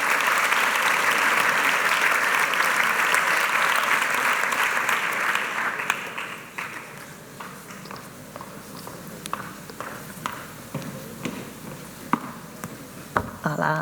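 Theatre audience applauds at a play presentation, loud sustained clapping for about six seconds that thins into scattered individual claps as it dies away.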